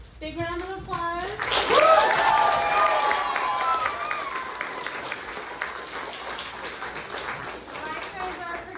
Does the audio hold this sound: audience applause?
yes